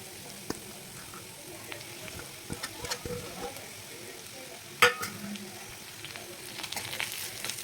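Onion and grated coconut being sautéed in a pan for a mutton gravy produce scattered spoon scrapes and knocks over a low sizzle, with one sharp clank midway and a brief murmur of voice.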